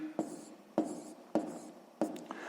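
A pen scratches out a math solution on paper in four quick, distinct strokes spaced about half a second apart, close and quiet with no talk.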